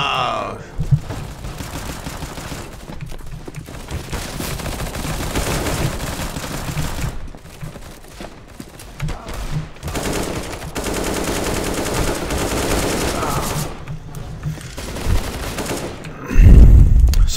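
Rapid automatic weapon fire and repeated gunshots in a Counter-Strike: Global Offensive match, dense and loud throughout with game effects layered over it and a brief louder impact near the end.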